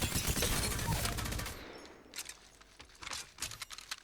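Dense, rapid automatic fire from the Devotion LMG in Apex Legends, loud and close, giving way to scattered clinks and a few sharper pops as the burst ends.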